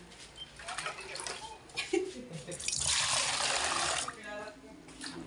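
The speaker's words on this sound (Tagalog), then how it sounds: "Lagyan po ulit natin tubig." Water is poured into a cooking pot holding washed chicken feet, a rushing splash lasting about a second or two among quieter clatter and faint voices.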